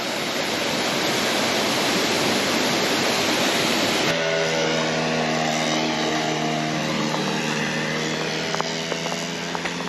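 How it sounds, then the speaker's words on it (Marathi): Water rushing down from a hill fort on a misty forest path, a steady loud broadband roar throughout, with a brief low drone joining partway. "किल्ल्यावरून आलेलं पाणी आहे"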